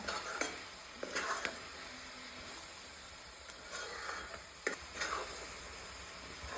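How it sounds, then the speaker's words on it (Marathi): Coconut vadi mixture stirred in a pan over a low flame: intermittent scraping strokes with a soft sizzle, close and fairly quiet, with no one talking. "वडी बनवत असताना आपल्याला सतत ह्याला एकसारखा हलवत राहावं लागतं"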